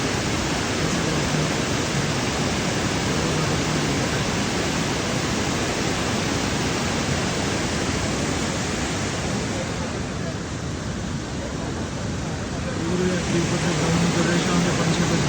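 A mountain waterfall swollen by heavy monsoon rain on the Shrikhand Mahadev trail roars in a dense, constant rush that stays loud and even throughout, with a few faint voices in the background.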